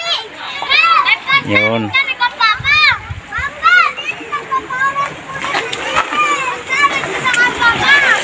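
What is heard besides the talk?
many children playing and splashing in water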